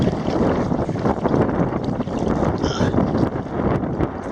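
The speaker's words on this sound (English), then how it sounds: "I'm starting to hit that headwind now" Wind buffets a kayak paddler heading into a headwind at Pensacola Beach, a loud steady broadband roar of microphone wind noise with water movement, no voices.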